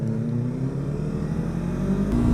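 Motorcycle with an aftermarket exhaust rumbling nearby on the road, a low, steady engine drone that swells into a louder rev at the close.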